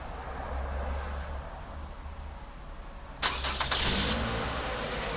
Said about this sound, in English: We can also shut the vehicle down.